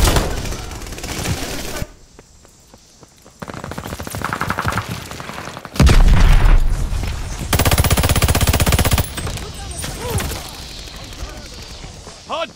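Sustained automatic gunfire around a hardpoint in a Call of Duty Vanguard multiplayer match, loud and dense with bursts and crashes, briefly dropping away before resuming, under game announcer callouts.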